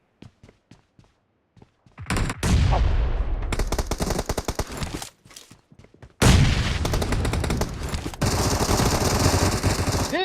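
Gunfire in the battle-royale game PUBG Mobile: a few sharp single shots, then two long, loud bursts of rapid automatic fire separated by a short lull, heard close without speech.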